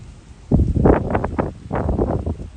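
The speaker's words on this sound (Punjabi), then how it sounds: "ਕੀ ਹਵਾ ਚੱਲ ਰਹੀ ਹੈ ਠੰਡੀ ਠੰਡੀ" Cool wind gusts sweeping through leaves in a village as rain threatens, a broad rushing roar with mic buffeting that swells and eases for a couple of seconds, close and fairly loud.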